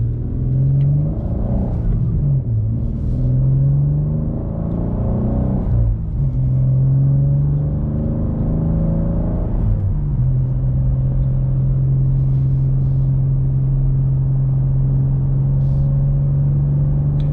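BMW M2 with a manual gearbox driving under moderate throttle, its engine droning steadily with a few rising revs and dips at gear changes, loud and close throughout without any talking.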